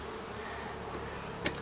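Honey bees give a continuous, fairly loud buzzing drone during a honey harvest done without a bee suit, ending with a short sharp click.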